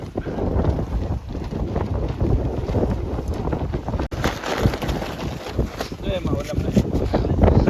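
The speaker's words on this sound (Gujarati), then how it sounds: "પવન જ ભરાય છે" Strong wind gusting against a tent pitched on an island in the middle of a lake, a loud continuous buffeting roar with flapping fabric, close to the microphone and unbroken throughout.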